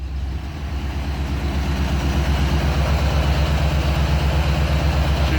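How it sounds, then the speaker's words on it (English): An old, crusty Ford F100 five-speed farm truck engine idles smoothly and steadily at close range, a deep continuous rumble with no talking. "She's doing her thing, idling in there nice and smooth"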